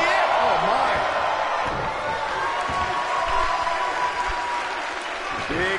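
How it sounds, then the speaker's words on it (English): Video game wrestling crowd in WWE 2K19 roars and applauds steadily throughout, a dense, loud arena wash with occasional thuds and commentary-like voices underneath. "by the sound of this crowd, I think they're getting what they wanted"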